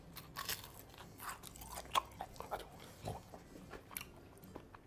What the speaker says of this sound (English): I hope you can hear the crispiness.